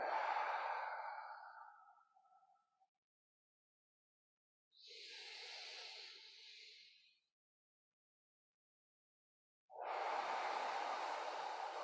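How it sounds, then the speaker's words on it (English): Slow, deep breaths close to the microphone: a long exhale fading out, a quieter inhale after a pause, then another strong breath starting, each separated by silence. "Nice big breath in, exhale, let that tension rinse away."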